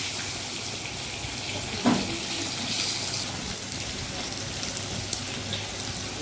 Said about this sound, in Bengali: এবার আলুটা ভালো করে ধুয়ে নিলাম